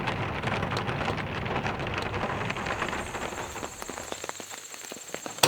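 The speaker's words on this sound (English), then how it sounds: "It's still raining." Steady rain patters on a tarp over a camping spot in the bed of a Toyota Tundra during a thunderstorm, dense at first and thinning toward the end, with scattered louder drips and no talk.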